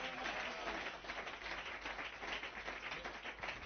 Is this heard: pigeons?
no